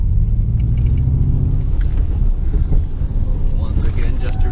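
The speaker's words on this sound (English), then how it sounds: "we're in an SUV, but it still obviously takes all these slaloms really well without any big body roll movement" Ford Mustang Mach-E prototype SUV driving a slalom, heard from inside as a loud, steady low rumble of road and motor noise with wind buffeting, while people talk over it.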